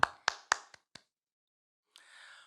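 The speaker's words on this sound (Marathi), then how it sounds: "आपण प्रत्येक जण सर्व मिळून त्यांचं आपण टाळ्या वाजवून स्वागत करूया" A handful of sharp hand claps, widely and unevenly spaced, followed by a short burst of noisy rustle; no voices.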